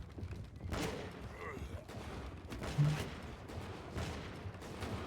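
Musket volleys in a Bannerlord Europe 1700 battle crackle in scattered, distant-sounding bursts, with a sharper report near the three-second mark, all under a continuous murmur of battlefield noise.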